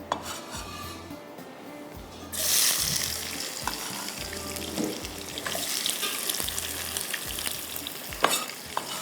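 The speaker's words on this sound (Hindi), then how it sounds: "अब प्याज जा रहा है ऑयल के अंदर" Onions hit hot oil with a sudden loud sizzle that keeps crackling and hissing steadily, with occasional stirring scrapes in a kitchen.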